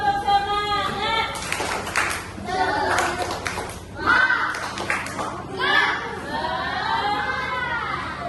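Classroom students give short bursts of group clapping amid lively chatter and a teacher's encouraging voice, the claps uneven and mixed with children's talk and noise.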